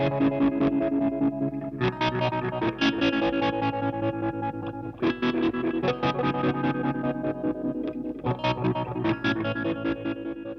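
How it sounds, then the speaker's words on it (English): An electric guitar through a germanium Bazz Fuss fuzz pedal, with a thick, fuzzy distorted tone playing chords and riffs, steady and fairly loud throughout. "welcome to the Germanium 7-minute fuzz mod sound test video"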